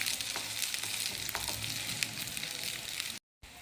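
Instant noodle pancakes frying in a pan give a steady, close, crackling sizzle with faint scrapes of a utensil, ending in a short silent gap before the sizzling resumes.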